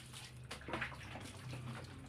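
Water is poured slowly over a plastic electric fan body to rinse it, a close, steady splashing and trickling with small drips and no talk.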